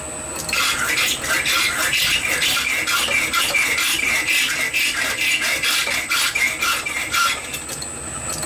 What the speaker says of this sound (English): I think we'll just cut him off with a hacksaw.